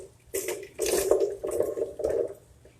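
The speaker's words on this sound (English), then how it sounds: "you'd use the same water that you had it soaking in into the blender" Water poured into a blender with soaked plantain during a vegan Haitian porridge cooking demo, a few short splashing pours in bursts, close and moderately loud, with no talking.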